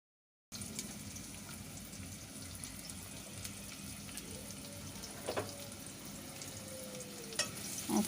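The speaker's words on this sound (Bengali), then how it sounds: "ততক্ষণ পর্যন্ত পেঁয়াজটা ভাজতে থাকি" Sliced onions sizzle and fry steadily in hot oil in a kadai for a hilsa and sweet pumpkin dish, a continuous close hiss with a couple of faint utensil clinks near the end.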